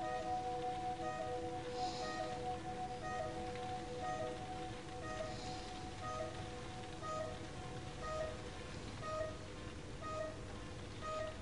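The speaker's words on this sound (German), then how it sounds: "Hörst du den Regen? Endlich Regen." Steady rain falls throughout, a soft continuous hiss with faint patters and a low background hum, distant and even.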